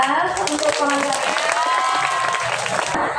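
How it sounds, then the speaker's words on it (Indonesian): A classroom of students gives a teacher steady, dense applause with crowd noise and some voices mixed in, loud and continuous for a few seconds. "Jadi tepuk tangan untuk pengajarnya"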